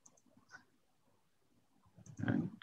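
A few faint computer mouse clicks, sparse and close, with a slightly louder cluster of clicks near the end in a quiet room.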